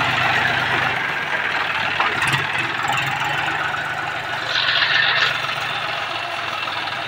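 An old John Deere 5104 2WD tractor idles close by with a steady, rough mechanical rumble and knocking texture, holding level for several seconds with slight swells and no voices.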